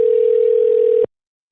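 A steady telephone dial tone hums alone for about a second on an office phone line, then cuts off abruptly into silence.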